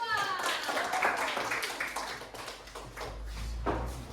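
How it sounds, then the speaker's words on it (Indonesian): A classroom group claps for group 2 during a teacher-training session, a moderate round of hand claps with children's and adult voices talking over it. "Beri tepuk tangan untuk kelompok 2"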